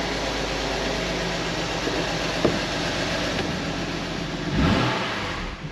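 A BMW M2 Competition's S55 engine runs steadily and a little noisy after starting, a continuous near rumble with a sharp knock partway through and a brief swell toward the end.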